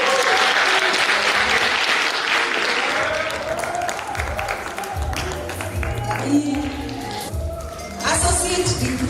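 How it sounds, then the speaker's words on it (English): An audience applauds a graduate at a theological seminary graduation ceremony, a strong burst of clapping that thins out midway and picks up again, with voices talking over it. "Let's clap for him."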